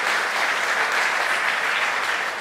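An audience at a live Punjabi stage drama claps in a thick, continuous wash of applause, loud and even throughout with no voices on top.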